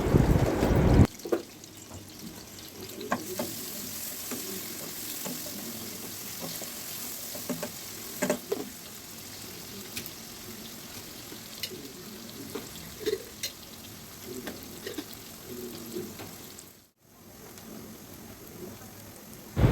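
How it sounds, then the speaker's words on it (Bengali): Chopped onion fries in soybean oil in a wok with a soft, continuous sizzle, broken by occasional stirring scrapes and clatters and a short pause near the end. "পেঁয়াজটা খুব সুন্দর মতো ভাজা ভাজা করে নেব।"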